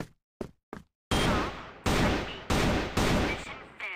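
Rifle fire in a shooter video game: a few short quiet pops, then four loud sharp shots with long ringing tails, spaced roughly half a second apart, with no talk over them.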